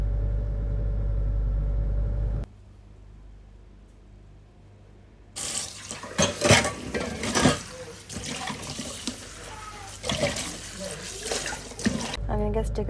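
Dishes and pots are washed at a kitchen sink: a tap runs steadily at first, then after a short lull comes a run of irregular clinks, knocks and clatter of utensils nearby.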